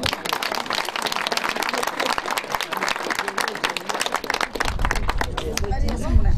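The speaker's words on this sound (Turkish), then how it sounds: "Kemal Bey, alkışlayın." Villagers applaud a guest at the opening of a village hall in Kavalcık, Sivas, with brisk, close hand clapping amid crowd murmur, growing denser and louder toward the end.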